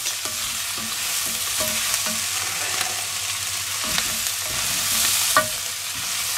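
Vegetables roasting in a pan alongside stuffed rolled venison roast hiss with a steady sizzle, broken by repeated clicks and scrapes of stirring at an uneven pace, close and fairly loud, with no talking.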